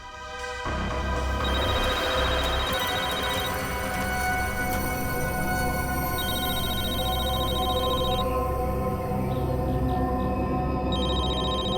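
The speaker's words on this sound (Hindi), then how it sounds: "उसे फोन रिंग हो रहा है।" A mobile phone rings on a call placed during a police investigation, a steady electronic tone repeating in regular bursts, loud and continuous over a background hum.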